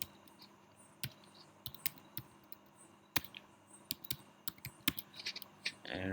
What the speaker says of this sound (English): So let's write some code here. So let's type print hello world